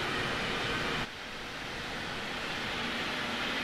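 Steady rumbling interior of a regional train riding along in a train simulator game, a continuous broadband drone that drops slightly in level after a second and then holds evenly, with no talk.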